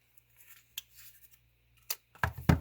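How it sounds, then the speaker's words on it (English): A few sharp, separate snips of scissors trimming a paper craft piece, close and quiet in a hushed room, ending with two louder cuts close together. "I think we need to trim off just a little bit more"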